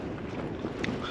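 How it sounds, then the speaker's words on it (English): Strong wind gusting at about 60 mph around a camping shelter on a hillside, a steady roaring rush with brief surges, close to the microphone and buffeting it. "Just check the wind outside, currently 60 mile an hour, gusts of 60"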